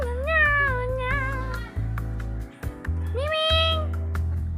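Cats meow loudly and close by, several drawn-out, wavering cries in quick succession over a steady low hum.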